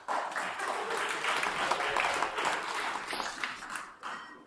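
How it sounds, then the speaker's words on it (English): Wedding guests clap together during the speeches, a moderately loud, continuous round of applause that rises and then trails off near the end. "Please clap your hands."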